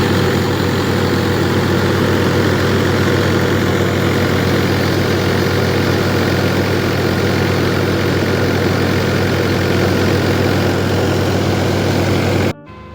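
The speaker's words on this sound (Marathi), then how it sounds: "आणि ना ह्या ट्रॅक्टरचा आवाज बघा केवढा होता" Tractor engine driving a sorghum threshing machine in a farm field, a loud, constant low idling drone with steady mechanical vibration running unbroken for about twelve seconds before cutting off abruptly.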